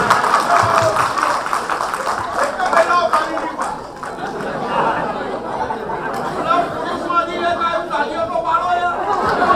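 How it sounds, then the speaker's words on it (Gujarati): Scattered clapping from an audience at a religious festival gathering honoring Gokulnathji, mixed with steady crowd chatter and voices throughout. "તાળીઓ પાડો ભાઈ"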